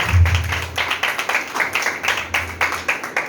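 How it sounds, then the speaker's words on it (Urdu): A church congregation claps loudly in a fast, even rhythm of sharp, close claps for several seconds, with a low hum underneath. "جو نجات پا چکے ہیں ان کے وہ تالیاں بجائیں. ہاللویا. زوردار تالیاں."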